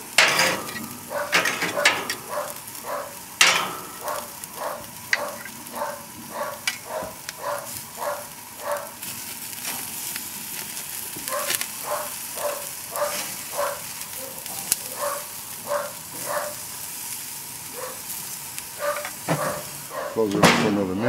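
Onions sizzle on a grill beside vegetables, a steady close hiss under a long run of rhythmic scraping or tapping strokes, with occasional louder knocks.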